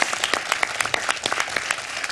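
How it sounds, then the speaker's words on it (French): Applause from a studio audience at a French television quiz show, with brisk, close hand claps that come in a quick, uneven patter over a dense layer of clapping. "Est-ce qu'on peut applaudir?"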